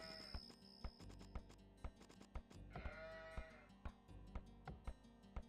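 Sheep bleat repeatedly in an Age of Empires II match, mixed with game sound effects. Sharp, regular clicks and thuds run throughout at moderate loudness.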